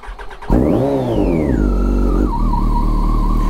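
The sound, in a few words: Yamaha FZ1 motorcycle engine starting and revving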